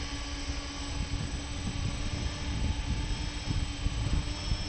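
Engines of an RC model Airbus A340 whine steadily as it back-taxis outdoors, a continuous broadband hum with a faint tonal drone holding level and close throughout, no voices present.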